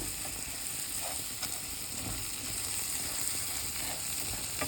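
Dry pasta sizzles steadily in melted butter in a pan as it is coated and browned, with a continuous close hiss and occasional soft stirring scrapes.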